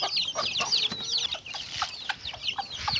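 A hen with her chicks on a farm: soft repeated clucks mixed with high, thin peeping from the chicks, busy and continuous, close by, with no one talking.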